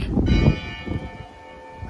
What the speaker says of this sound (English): I don't know why church bells always chime when I'm giving something on YouTube.